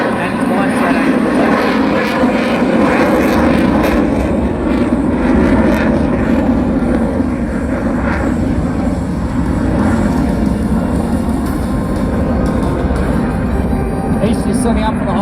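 At the Wings Over Illawarra 2021 air show, a RAAF F/A-18 Hornet jet roars loudly and continuously as it flies its final display, a dense, broad rumble heard under ongoing commentary.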